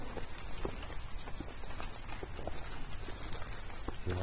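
Steady rain pattering outside during a Florida public-land turkey hunt, a continuous soft hiss of drops on surfaces with scattered individual taps, fairly close and even throughout, no voices.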